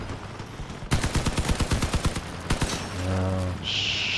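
Rapid shotgun blasts in the vehicle combat game Crossout, a loud burst of about a dozen sharp, evenly spaced shots, followed by a brief humming engine tone and a hissing burst at the end.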